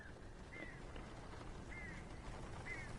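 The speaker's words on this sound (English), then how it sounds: "Damn bird." In the video game Alan Wake Remastered, a bird gives three short, faint quacking calls spaced about a second apart over a quiet, low background hiss.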